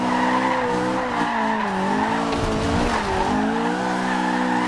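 Sustained tire squeal from a 1991 BMW M3 E30 drifting at high speed in Forza Horizon 2, a loud wavering screech that bends in pitch over a steady engine roar, continuous throughout with no talking.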